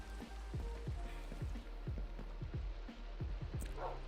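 Rain in a Minecraft-style video game patters steadily in the background, overlaid by a regular series of soft thudding footstep or block-placing knocks roughly every half second, with no talking.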